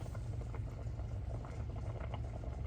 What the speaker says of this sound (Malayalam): നന്നായിട്ട് തിളച്ച് വന്നിട്ടുണ്ട് കേട്ടോ.